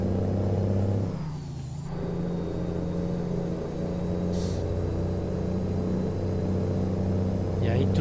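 A VW Titan truck in a truck driving video game hums with a steady low engine drone, dipping briefly as a gear is changed on a manual H-shifter before settling back to a constant rumble.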